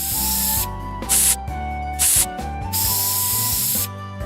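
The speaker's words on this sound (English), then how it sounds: "bug spray, I'd say." Bug spray from an aerosol can hisses out in three bursts, two short and one long, loud and close over steady background music.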